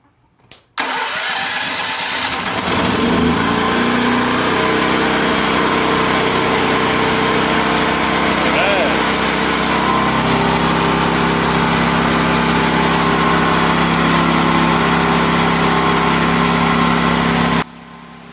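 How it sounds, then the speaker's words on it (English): A Powerhorse generator engine, newly fitted with a replacement AVR, cranks briefly and catches, then settles into a loud, steady running drone that holds for the rest of the stretch before cutting off abruptly near the end. "got that new AVR in. Let's give it a start and see what happens"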